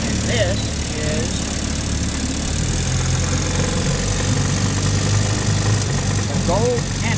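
A 1953 Scott-Atwater 10 horsepower antique outboard motor runs steadily with a continuous loud, buzzing drone and a few faint voices over it.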